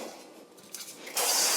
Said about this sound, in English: a little bit of spray so it doesn't dry out.